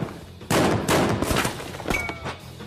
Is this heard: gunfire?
yes